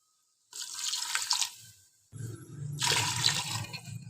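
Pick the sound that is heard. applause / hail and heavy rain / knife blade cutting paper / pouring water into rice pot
pouring water into rice pot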